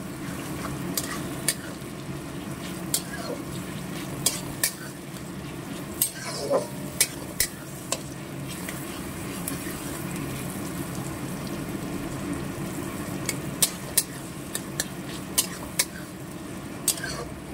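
Marinated chicken leg pieces fry and get stirred in a pan, giving a steady sizzle with scattered sharp clicks and scrapes from stirring, moderately loud and continuous throughout.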